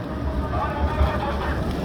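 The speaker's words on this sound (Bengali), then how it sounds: "খুব দ্রুততম একটি নৌযান আমাদের এমবি কর্ণফুলি 11" Passenger launch MV Karnaphuli 11 on a river in Bangladesh, its steady engine rumble and wind noise filling a continuous, fairly loud wash of sound.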